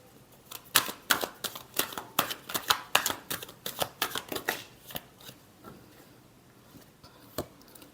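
Tarot cards being shuffled for a weekly Aries horoscope reading, a close run of crisp riffling flicks and snaps that come in quick bursts, then thin out to a few isolated taps near the end.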